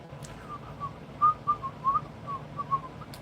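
Someone whistles a soft, wandering tune in short bursts against a quiet background hum.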